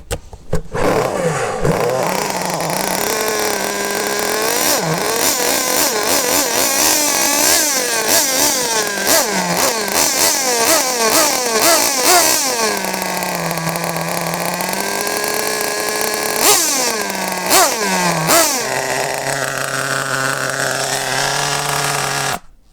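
Nitro engine of a Kyosho V-One RRR radio-controlled car is fired up on a starter box, buzzing loudly and steadily with rapid high-pitched revs rising and falling for about twenty seconds, no talk over it.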